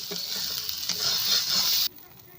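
Jackfruit going into hot oil and spice paste, sizzling and frying steadily with stirring scrapes for about two seconds before it cuts off abruptly.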